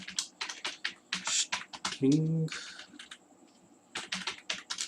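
SQL query being typed on a computer keyboard: close, fairly quiet irregular key clicks in quick bursts, broken by one longer mechanical press and a brief pause before typing resumes.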